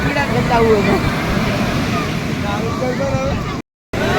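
Sea waves wash and break continuously along the Somnath shore, a broad steady surf roar mixed with wind buffeting the microphone, with voices talking over it before a brief dropout near the end.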